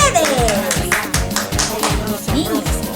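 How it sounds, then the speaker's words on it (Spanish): An audience claps after a children's musical at a forest-themed celebration, a near burst of rhythmic handclaps with a tonal voice or instrument sliding over the top. "¡Aplausos para ustedes!"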